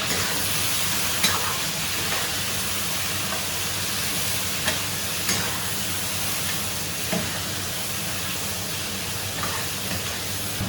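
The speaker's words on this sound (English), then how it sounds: "add the chopped chicken offal, that's these chicken organs," Chicken offal hits hot oil fragrant with peppercorns and is stir-fried quickly in a wok, a steady close sizzle with occasional clinks and scrapes of the spatula.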